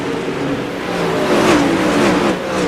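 Winged 360 sprint cars in a sim racing game hum around the Lanier oval, one engine note revving and sweeping past up close over a steady rumble of others.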